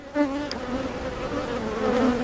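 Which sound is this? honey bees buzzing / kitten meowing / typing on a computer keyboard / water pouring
honey bees buzzing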